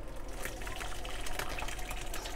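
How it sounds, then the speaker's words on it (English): Hot ricotta curds and whey are poured into a strainer, giving a steady liquid splashing and trickling. The pouring is fairly close and continuous and plays alone without speech. "And now we're going to go ahead and strain it."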